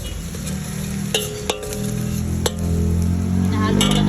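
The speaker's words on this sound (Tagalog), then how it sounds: "Hinahalo para di masunog." Onion and garlic sautéing in a pan while being stirred: a steady close sizzle with a few sharp utensil clinks against the pan and scraping stir movements throughout.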